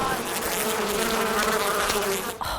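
Bees buzz loudly and continuously in the first-person game Far Cry Primal, a dense swarming drone close to the ear with no talk, cutting off abruptly near the end.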